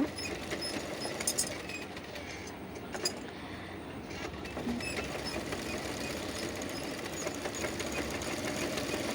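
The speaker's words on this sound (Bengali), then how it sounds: "এবার আমি নিচ থেকে কুচি দেওয়ার জন্য কাপড়টি ভাঁজ করে সেলাই করে নেব।" A sewing machine stitches folded fabric for a gathered hem on a frock for a one- to two-year-old child. It makes a steady, continuous mechanical whir that runs close and unbroken throughout.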